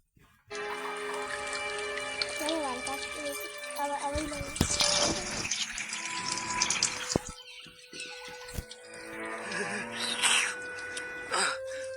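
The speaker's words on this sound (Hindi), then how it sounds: "पानी कम, नाली का पानी ज्यादा लग रहा है दोस्तों।" Dirty drain water flows through a vegetable market street, a continuous splashing rush running the whole time with sporadic clatter and distant voices mixed in.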